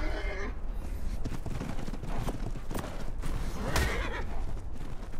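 Horse from the video game ARK Ascended Scorched Earth, set in a desert map: a whinny and rapid hoof clatter sound close and loud over constant game ambience, with scattered sharp hits and a brighter burst near the end.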